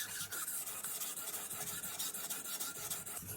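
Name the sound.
Senzo Santoku knife sharpened on 2000 grit whetstone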